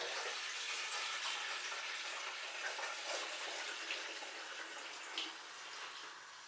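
Warm water pours steadily into the tank of a Vax Eclipse 8100SX carpet cleaner, a continuous hissing gush that fades slightly toward the end.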